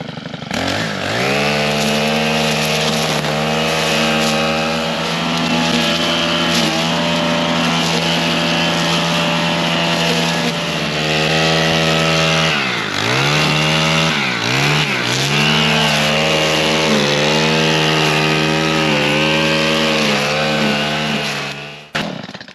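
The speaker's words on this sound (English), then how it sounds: "I'm just going to use the stump grinder and take care of this" A Woodland Mills WG24 stump grinder runs at high revs, a loud continuous engine drone with harmonic whine that dips and bogs twice as it bites into a stump, then recovers, with no voices.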